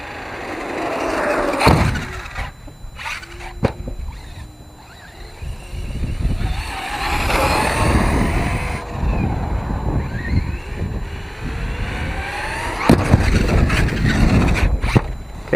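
An Arrma Talion RC truck on 4S power launches off a park ramp, backflips and slams down hard, giving loud, sharp impact smacks amid rumbling motor and wind noise outdoors.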